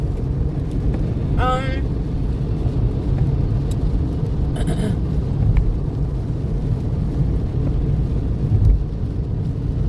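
Steady low rumble of a car driving on a rainy day, heard from inside the cabin, with road and engine noise running throughout and a brief higher squeak partway through.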